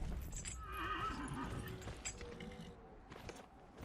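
In the video game Dragon Age Inquisition, a summoned horse gives a clear whinny while its hooves clip-clop alongside mechanical game clatter, all close and fairly quiet.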